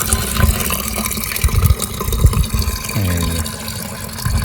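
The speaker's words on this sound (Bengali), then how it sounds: "পানি পড়তেছে," Water pours from an outdoor filter tap into a container, a loud close splashing stream with gurgling and a rising filling tone partway through.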